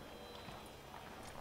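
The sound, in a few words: horse hooves clip-clop, video game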